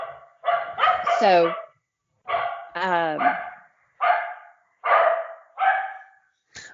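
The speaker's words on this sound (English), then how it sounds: "That's just the dogs barking at bears on the porch." Several dogs bark at bears on a porch, giving sharp repeated bursts with some yelping, fairly near, alternating with short pauses while a person speaks briefly.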